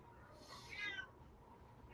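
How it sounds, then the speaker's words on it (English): A house cat meows once indoors, a faint, short call at some distance in an otherwise quiet room. "Oh, I hear a mouthy kitty."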